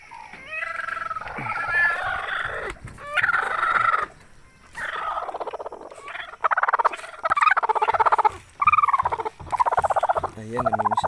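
Brooding hens with newly hatched chicks of the asil and shamo game breeds give close, repeated clucks and throaty calls in bursts, with short pauses between phrases.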